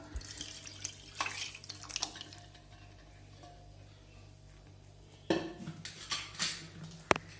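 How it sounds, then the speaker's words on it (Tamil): A pressure cooker is rinsed with water, with running splashes, sloshing and metallic knocks of the pot, loud bursts separated by quieter stretches. "இப்போ இந்த குக்கரை அப்படியே நல்லா கழுவி இதில் ஊற்றிக்கலாம்"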